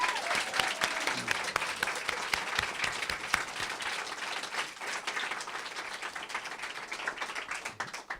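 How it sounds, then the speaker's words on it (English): An audience applauds after a speech presentation, sustained steady clapping from a sizeable crowd that holds its level for several seconds before tapering slightly. "let's give them a good round of applause"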